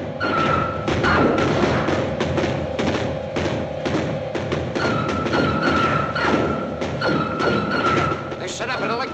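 Artillery firing in the 1956 film Earth vs the Flying Saucers: dense, loud thuds and booms pile up in rapid succession over a sustained rumbling roar, with voices mixed in.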